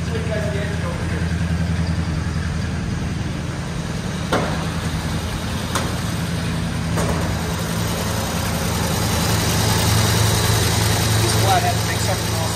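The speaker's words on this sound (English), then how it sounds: "These flatheads make such an awesome sound." A 1933 Ford Model 40 Deluxe coupe with a flathead engine idles steadily on a cold start, giving a low continuous rumble that is loud and close, with no talking over it.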